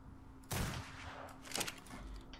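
Two pistol shots fire in a video game, the first sharp crack followed about a second later by a second one, both fairly faint against a low background.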